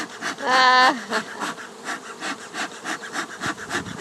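Steady buzzing of many bees fills the air, close and continuous, with a louder drone swelling briefly near the start.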